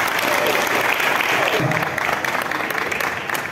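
A crowd at a ceremony applauds, dense clapping that sounds loud and steady, then slowly tapers off.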